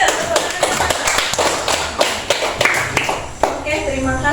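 A classroom of students applauding after a maths exercise, a burst of close clapping and tapping with thumps, under a teacher's voice.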